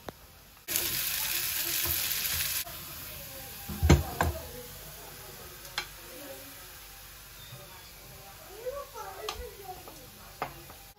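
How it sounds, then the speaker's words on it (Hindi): Raisins drop into hot oil with sautéed carrots for kabuli pulao, giving a short burst of strong sizzling, then quieter frying with scattered clinks and taps of stirring. "अब इसमें मैं किशमिश ऐड कर दूंगी"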